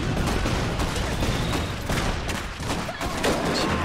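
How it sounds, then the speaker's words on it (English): Rapid, dense gunfire from the piercing shot ability in the Iron Harvest video game, sustained volleys of cracking shots and booms overlapping in a continuous loud barrage. "Piercing shot is being used."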